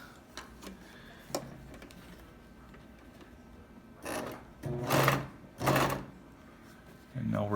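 A sewing machine stitches a homemade upholstery pocket for a '71 Beetle, running in several short, loud bursts close by with pauses and faint ticking between.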